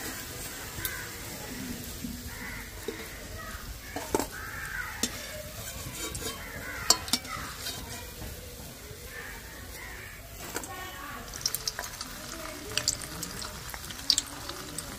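Cabbage vegetable balls for veg Manchurian fry in oil with a continuous soft sizzle, scattered clicks and stirring scrapes, and faint crow calls in the distance.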